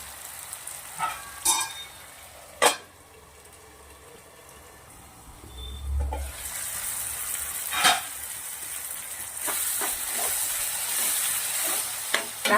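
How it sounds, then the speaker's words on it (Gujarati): Tomatoes and onions sauté with salt in a pan, a few clanks and scrapes of stirring followed by a steady, rising sizzle that grows louder and fuller, heard up close. "ટામેટા સરસ ગળી જાય ત્યાર સુધી આપણે આને શેકવાના છે"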